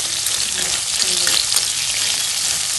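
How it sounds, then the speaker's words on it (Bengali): Potato pieces fry lightly in a pan, giving a loud, dense and steady sizzle throughout with no talking over it. "বেশি কড়া করেও ভাজবো আলুটাকে ছেলে জল গরম দিতে দিতে হালকা করে ভেজে নিচ্ছি"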